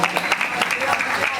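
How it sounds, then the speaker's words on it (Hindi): A seated audience at a religious discourse claps together in a steady, dense burst of applause that fills the short moment at an even, moderately loud level. "एक बार ताली बजाएं आप सभी को"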